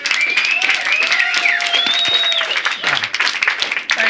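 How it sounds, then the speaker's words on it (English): Audience applause and cheering at a Las Vegas comedy show as comedian Kirk McHenry takes the stage, a dense, steady wash of clapping with a few whistles running the full length. "please, welcome to the stage with a big round of applause"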